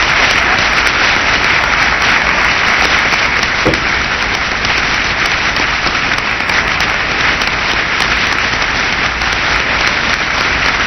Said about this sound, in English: the room, of course, is erupted in cheering and applause